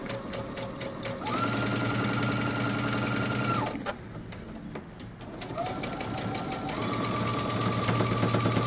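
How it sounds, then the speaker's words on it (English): A sewing machine stitches along a fold of a jumper pocket, its motor whirring steadily in two long runs with a brief pause between them, close and loud, with no speech. "we're going to stitch along the fold until we get to our dot"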